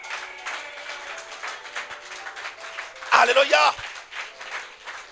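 Congregation applauding in a church during a sermon, a short burst of clapping rising briefly over the preacher's ongoing voice.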